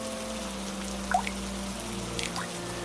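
Rainwater drips through a leaking roof into a small mud house in a cartoon, a few separate plinks over a soft steady background.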